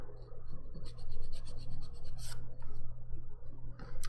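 Steady scratchy rasping of a nail file shaping the sides of a dip powder manicure, close and continuous in short back-and-forth strokes, with a low background hum underneath.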